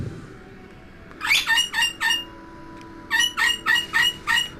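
A chicken clucks in repeated rhythmic bursts, two quick series of squawky clucks against a low household hum, fairly close with no talking over them.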